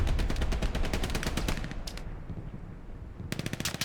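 Rapid automatic machine gun fire rattles in a tank battle video game, loud and close in dense bursts, pausing briefly before another sustained volley.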